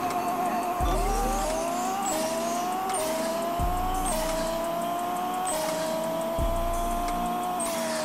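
A tuned Audi RS6 of about 3,000 horsepower accelerates hard in Pixel Car Racer, its engine note climbing steeply through three quick gear shifts in a loud, close, continuous run.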